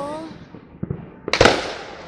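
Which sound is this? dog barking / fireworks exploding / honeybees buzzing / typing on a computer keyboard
fireworks exploding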